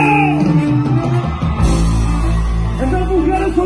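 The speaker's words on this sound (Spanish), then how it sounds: "A ver, ese pinche grito mexicano." A crowd at a Mexican regional music concert at the Marquee Theatre in Tempe, Arizona, lets out a loud, high Mexican grito yell over the band's continuous live music.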